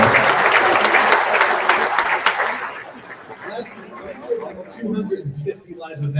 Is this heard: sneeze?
no